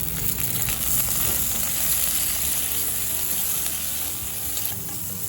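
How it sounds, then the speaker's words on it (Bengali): Lightly salted broad beans fry in leftover mustard oil in a kadai, a steady, even sizzle with faint crackles that thins slightly toward the end. "লবণ দিয়ে শিমগুলো হালকা করে ভেজে নিলাম"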